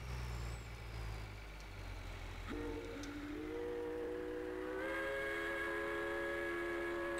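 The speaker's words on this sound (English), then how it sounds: "I kind of want to remove the train sound from this" A train in Farming Simulator 2013 sounds a long steam-style whistle in sustained tones over a steady rumble of rolling rail noise, fairly loud and alone.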